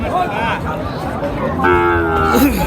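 Cattle low with drawn-out moos over a steady hum of crowd chatter and nearby talking at a busy livestock market, Sonaichandi Haat in Chapai Nawabganj, Bangladesh.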